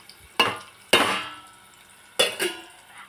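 Green chillies go into onions frying for a tomato and gongura leaf curry, with three sharp, close scrapes and clatters of a spoon against the pan over a faint sizzle.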